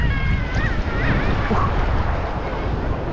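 Warm ocean surf breaks at Unawatuna beach, a dense, close wash of water and wind noise on the microphone, with excited voices talking and exclaiming over it at the start.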